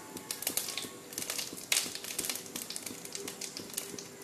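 Bay leaf and cumin seeds sizzle in hot oil in a kadai, a faint, steady crackle dotted with small irregular pops, with no voices.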